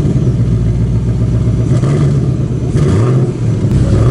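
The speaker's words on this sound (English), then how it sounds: "When you start the engine, that's it." A 2019 Ford Mustang GT Premium V8 engine running loud and close with a deep steady rumble, rising briefly in revs partway through, no talk.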